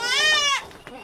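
A goat that has just given birth gives one loud, drawn-out bleat up close, followed by quieter faint rustling.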